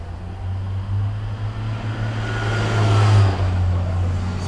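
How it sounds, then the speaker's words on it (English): A loud truck drives past outside. Its low engine drone holds steady, then swells and peaks near the end as it passes close by, with no talking. "It's been a loud truck week."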